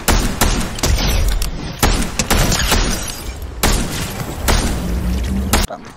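Rapid bursts of loud gunfire and explosive booms from the battle royale game Fortnite, sharp repeated shots with brief pauses between volleys, close and dominant throughout.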